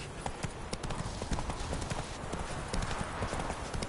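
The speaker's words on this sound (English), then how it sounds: "Whoa there, Roach." Horse hooves clip-clopping in a video game, a steady rapid patter of hoofbeats close by, loud and continuous.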